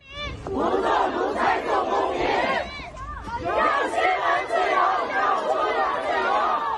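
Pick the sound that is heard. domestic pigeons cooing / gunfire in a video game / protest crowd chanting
protest crowd chanting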